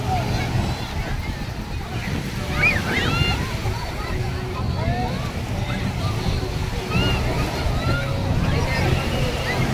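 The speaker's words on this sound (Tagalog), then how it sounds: "Ayan na yan guys, ang dagat, oh." Steady surf rolls and washes throughout at a beach resort, with gulls or shouts faintly above it and a voice talking now and then.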